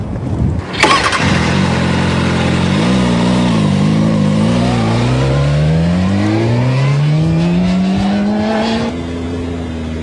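A motorcycle with a pointer mounted on its tank starts up with a sharp catch, then its engine climbs steadily in pitch as it accelerates and holds a smooth rising drone before easing off near the end.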